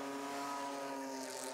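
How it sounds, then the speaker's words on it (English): BMW race cars of the BMW Open Series accelerate away from the front straight at Pukekohe, a dense, steady engine roar with layered revving tones and no speech. "we'll watch the rest of the cars coming away from the front straight"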